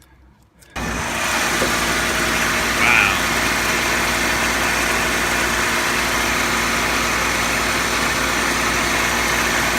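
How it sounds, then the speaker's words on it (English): An old 3-liter engine in a 1982 Buick Century fires up after a brief quiet moment and settles into a steady, close, rumbling idle that holds for the rest of the stretch. "That's an old 3-liter engine right"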